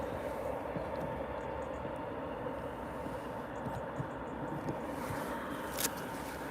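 A Boeing 737 Max jet roars steadily at Liverpool Airport at sunrise, a broad continuous engine rumble and hiss that is loud and sustained throughout.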